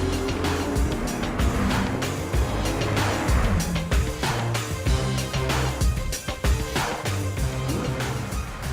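New Toyota Supra sports car being driven during final testing, engine rising and falling through repeated revs and gear changes, loud and close with brief tire noise.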